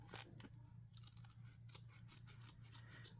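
Scissors snip through junk mail envelope paper in a quick series of sharp, close cuts over a faint steady hum.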